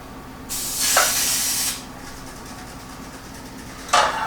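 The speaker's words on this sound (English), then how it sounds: "grab my spray, which I do like to use this Pam" Pam cooking spray misted from a nearly empty can into muffin tins, a close hissing burst of just over a second, then a short second spurt after a pause.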